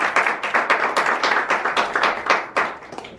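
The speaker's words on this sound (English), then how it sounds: "let's please give a warm round of applause" Applause from a small Toastmasters meeting audience, individual claps distinctly audible in an uneven rhythm, moderately loud and close, tapering slightly near the end.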